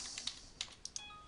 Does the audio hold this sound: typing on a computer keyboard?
yes